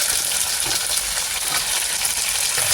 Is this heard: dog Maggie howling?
no